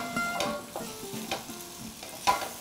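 Flour cooking in fat for a roux in a pan, the base of a cucumber velouté, with a soft continuous sizzle broken by scraping stirs and a few light knocks, close by and without talk.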